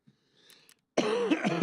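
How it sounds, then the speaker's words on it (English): A single loud, close cough bursts out after a near-silent moment of faint rustling, rough and throaty like clearing the throat. "Cough a lot and then apologise for coughing a lot"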